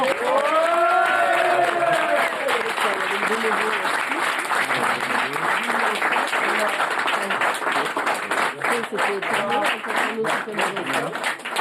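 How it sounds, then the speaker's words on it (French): A live audience applauds at a French comedy stage show, dense sustained clapping filling the room for about eleven seconds, with cheering and voices mixed in. "Et on peut les applaudir."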